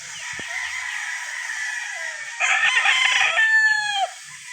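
A Boston Black gamefowl rooster at a gamefarm in Norzagaray, Bulacan crows once, a loud, drawn-out call rising in the second half over steady background noise.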